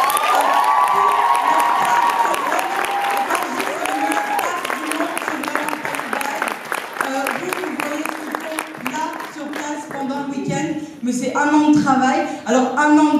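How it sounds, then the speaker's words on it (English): A convention crowd at the Space Walkers event breaks into sustained applause with cheering and shouts, loud and dense throughout, with voices whooping over the clapping. "un tonnerre d'applaudissements."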